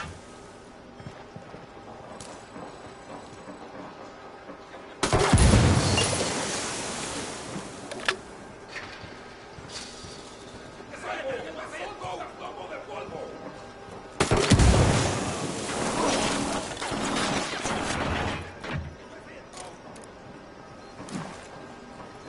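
Submachine gun fire in Ghost Recon Wildlands erupts in two loud, dense bursts of shots separated by a stretch of quieter gameplay noise, with the rattle trailing off after each burst.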